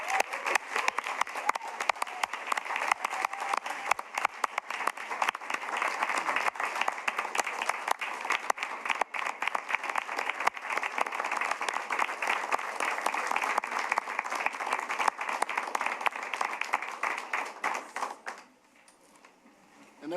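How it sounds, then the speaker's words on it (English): An audience claps for honorees at a school board of education meeting, a dense, steady round of applause that runs loud for most of the span before tapering off near the end. "Let's give them one more round of applause."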